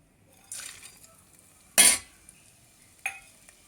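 Grated pumpkin halwa ingredients are stirred in ghee in a pan, giving three separate scraping, clinking utensil strokes spaced about a second or more apart against a quiet background.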